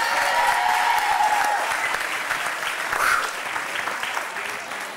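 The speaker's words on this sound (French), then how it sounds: "On l'applaudit très fort, s'il vous plaît." A crowd at a live show gives loud, sustained applause, dense clapping that gradually fades, with a brief cheer or shout partway through.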